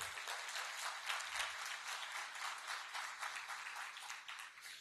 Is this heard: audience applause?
yes